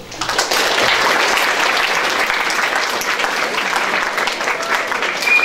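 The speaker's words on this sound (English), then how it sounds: "Please give them a round of applause." An audience at a junior school prize giving applauds, a thick, steady roar of many hands clapping throughout without a break.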